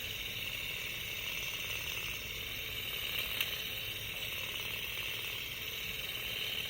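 An Instant Loc machine for loc extensions runs on its lowest setting with a faint, steady mechanical buzz and rapid fine ticking. The sound holds evenly throughout, with no talk.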